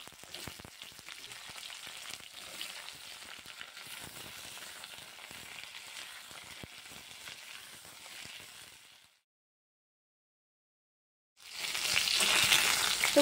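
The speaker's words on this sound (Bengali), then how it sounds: "আলু ভাজা তেলের মধ্যে পটলগুলোকেও ভেজে নেব।" Pieces of pointed gourd (potol) fry in hot oil left from frying potatoes, a close, steady sizzle that drops to silence for a couple of seconds, then returns louder and brighter.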